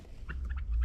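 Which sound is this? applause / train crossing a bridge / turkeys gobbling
turkeys gobbling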